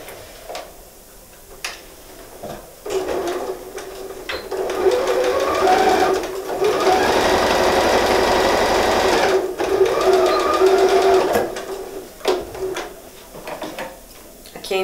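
A sewing machine stitches along the side of a fabric book cover to fix a pocket to the flap, running in several close bursts with one long steady run in the middle, while a dove coos faintly in the background.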